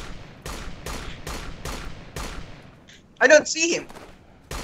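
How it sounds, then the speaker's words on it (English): Machine gun fire in the military video game Operation Flashpoint: Dragon Rising: a steady run of evenly spaced, loud shots, then a pause while someone speaks briefly, then one more shot. "There's a machine gun!"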